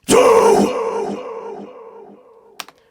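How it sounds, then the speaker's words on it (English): A deep, growling processed voice with heavy delay and reverb rings out with a long echoing tail and a wash of reverb that fades slowly, ending in a couple of brief clicks. "there's a lot of delay, reverb, and stuff like that going on"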